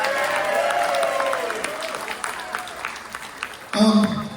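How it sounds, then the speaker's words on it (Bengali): A theatre audience applauds after a play: a steady wash of clapping that thins out partway through, then a voice starts talking near the end. "Another big round of applause for Len."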